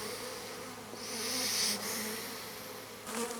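Honeybees buzzing at a hive being smoked while a Miniplus division is transferred into a Dadant 10 box; a dense, steady drone swells slightly midway, close and continuous.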